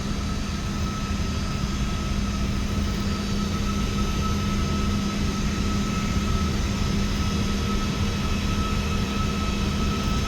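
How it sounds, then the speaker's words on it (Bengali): A Saudi airliner sits at the airport, giving a constant, loud, low jet engine drone and whine that stays level throughout. "ওই যে সৌদি বিমান আর একটা আছে সামনে।"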